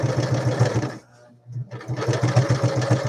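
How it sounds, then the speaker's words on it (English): A sewing machine runs a straight stitch through the glued spine of a handmade paper-and-lace journal, its rapid needle hum steady and close, pausing briefly near the middle before starting up again. "I want straight stitch. So I'm just going to stitch my spine into place."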